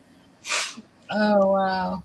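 A person sneezes once, a short loud burst, followed by someone speaking briefly over a live broadcast setting.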